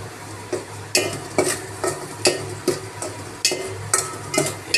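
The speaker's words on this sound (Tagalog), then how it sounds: "Igigisa ko na ang nasabing mga rekado ni Master B." Ingredients for pakbet sizzle in a pan while a utensil stirs them in steady, repeated scraping strokes, close and clear, with no talking.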